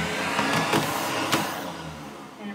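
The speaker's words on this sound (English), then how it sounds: "the other cool part is this blow dryer, hair blow dryer" Wall-mounted hotel hair blow dryer running with a steady, whooshing hum at moderate level, with a few short clicks or knocks along the way.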